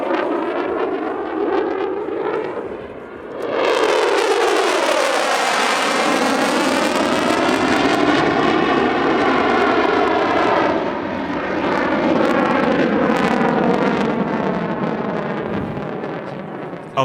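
A Polish Air Force F-16D two-seat fighter roars through a display flight at a military airshow, a loud sustained jet howl with a sweeping pitch shift as it passes, continuous and unbroken for the full span.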